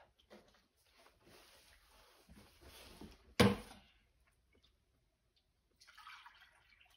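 Fulvic acid liquid poured into a worm tea mix gives soft liquid trickles, then one brief, louder splash that fades within half a second, heard alone at close range.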